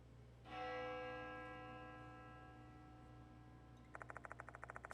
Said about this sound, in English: Sound of a bell echoes in my ears.